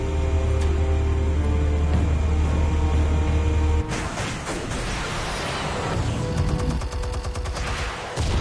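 Rapid bursts of gunfire ring out in a Batman video game, a dense fusillade of repeated shots that breaks into sharper, more scattered volleys after a few seconds, loud and close with no talk.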